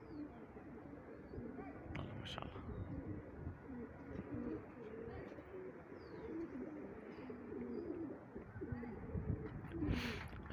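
Flock pigeons coo repeatedly and steadily at close range during a pigeon-flying session, a continuous layered murmur with a few sharper calls near the end.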